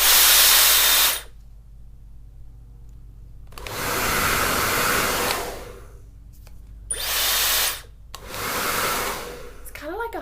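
A Dyson hairdryer blows in loud, steady bursts of high-pitched airflow that switch on and off several times, with quiet pauses between runs.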